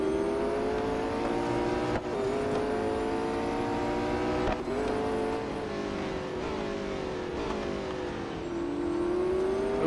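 A race car engine in Real Racing 3 holds a steady high-pitched drone, rising and falling with gear shifts and throttle changes while overtaking late in a race, loud and continuous with no talk.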